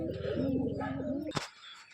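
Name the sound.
pigeons being released to fly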